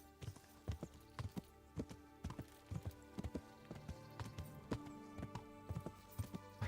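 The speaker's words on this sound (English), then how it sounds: "It does sound good just walking your horse in going clippity-clop." Horse hooves clip-clop at a steady walking pace in the Kingdom Come: Deliverance video game, with regular, fairly faint hoof strikes over a quiet background.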